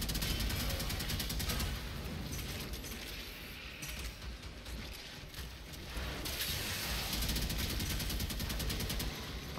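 Rapid automatic fire from a Karak Wraith rifle in the video game Warframe during a Tower Survival mission. It is a dense, continuous stream of shots with a rhythm that slightly speeds and slows. No one talks.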